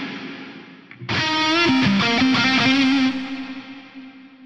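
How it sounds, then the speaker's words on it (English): A sustained sound passes through a reverb effect with dynamic presence boost distortion, a gritty crunchy attack up front that thins into a smoother, fading reverb tail over a few seconds, with no speech. "dynamic presence boost and have a listen to what that does to the reverb tail."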